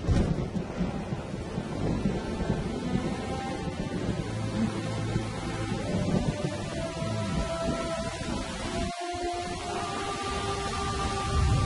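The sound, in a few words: rain falling with thunder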